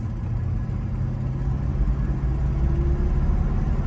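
A 1985 Mercedes-Benz 500SEC Euro-spec with a misfire or exhaust leak idles with a steady low engine rumble and uneven puttering, close by and continuous, with no talk over it.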